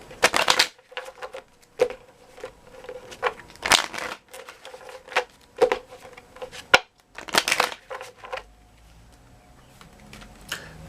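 Moonology oracle cards being shuffled in bursts of crisp riffling and slapping, close and fairly loud, separated by short pauses and quiet handling.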